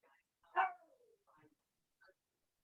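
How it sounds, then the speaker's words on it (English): A puppy gives a single short yelp-like bark during a quiet yoga session indoors, followed by a couple of faint whimpers and a tiny yip, all soft and somewhat distant. "I hear a puppy."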